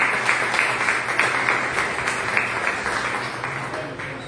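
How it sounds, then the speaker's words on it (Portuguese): Congregation applause during a church service, a steady bed of clapping with brief rhythmic accents, moderately loud and continuous. "Aplauda mais uma vez o nome do Senhor."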